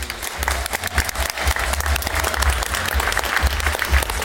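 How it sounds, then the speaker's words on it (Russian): Audience in a hall clapping steadily, a dense, loud wash of applause that holds throughout without pause. "вы похлопайте, пожалуйста"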